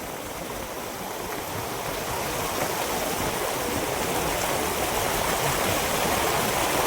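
Rainwater rushes steadily through a flooded farm field, a broad continuous flowing roar that grows slightly louder over time, with no talking.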